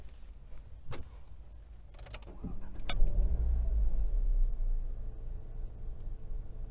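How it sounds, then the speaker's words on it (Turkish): A 2014 Nissan Qashqai 1.2 DIG-T is started from inside the cabin: a few clicks and a short crank, then the engine catches with a low rumble that settles into a quieter idle. "Öncelikle aracımızı çalıştıralım."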